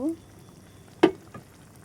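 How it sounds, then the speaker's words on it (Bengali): Stems and potatoes sauté with spices in a pan, heard as two or three sharp spatula strikes and scrapes against the pan over a low sizzle, with a short voice sound at the start. "আমি ভালোভাবে ডাঁটা আর আলুটা মশলার সাথে কষিয়ে নিয়েছি।"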